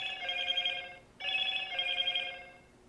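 A telephone rings in two bursts of bright, warbling electronic trills separated by a short pause, fairly clear and up front with no talking over it.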